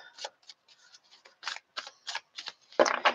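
A deck of tarot cards is shuffled by hand in short, crisp bursts of riffling and slapping, roughly a dozen quick flutters at an uneven pace, ending in a louder flurry; no talking.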